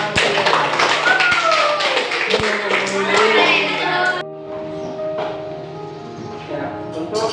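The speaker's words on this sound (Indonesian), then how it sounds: "kita berikan aplaus untuk" A classroom applauds a student's correct answer with a burst of clapping and tapping for about four seconds, then it fades to a quieter room where a voice can be heard talking.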